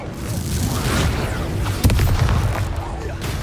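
Spell explosions blasting in Hogwarts Legacy combat, a dense run of booming bursts with one sharper hit in the middle over a constant rumbling battle din.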